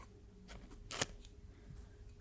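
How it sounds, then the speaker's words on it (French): A single sharp snip of scissors cuts through a strip of tape, close and crisp, with quiet surroundings before and after. "Pareil, je vais couper."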